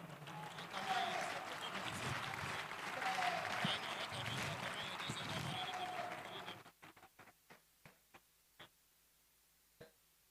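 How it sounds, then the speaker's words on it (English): Congregational applause at a coronation anniversary ceremony of a traditional ruler in Arochukwu, offered as a clap to God: about six seconds of dense crowd clapping with murmuring voices, then a few isolated claps trailing off. "Let's appreciate God with a clap offering."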